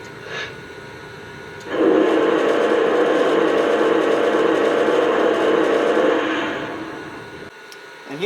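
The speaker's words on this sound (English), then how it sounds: "And here's a steam blowdown effect." A Lionel Legacy Santa Fe 4-8-4 model locomotive's steam blowdown sound effect: a sudden loud burst of hissing steam after a quiet moment, holding steadily for several seconds, then fading away.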